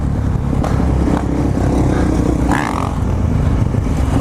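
Dirt bikes rev and roar through wheelies on a city street, engines loud and rough with rising throttle bursts and some clattering.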